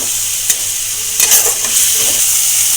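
Curry masala sizzling loudly in a pan for a jackfruit-seed kofta curry, with a bright steady frying hiss and a few spatula scrapes and knocks as it is stirred.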